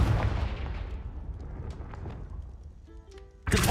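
A Confringo fire-blast spell from Hogwarts Legacy bursts loudly and rumbles away over a few seconds, then a fresh crack hits sharply at the end, with no voices.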